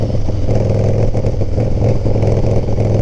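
A Harley FXR motorcycle engine idles loud and close in a steady, thick rumble with a faint mechanical clatter, running without pause. No one speaks.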